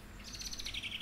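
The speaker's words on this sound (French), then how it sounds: "quand on tend l'oreille, on entend des bruits d'oiseaux et des bruits d'insectes." Birds chirp outdoors on a grassy spot, a faint, high, continuous twitter of small calls heard from some distance, with no voices.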